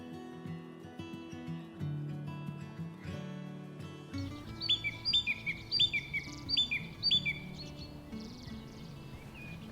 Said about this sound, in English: And from the trees behind me, green woodpecker calling.